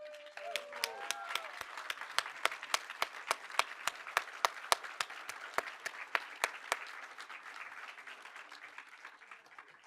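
Audience at a type design conference applauds in a packed hall, sharp individual claps standing out over a dense, steady wash of clapping that fades slightly toward the end; a voice briefly speaks at the start.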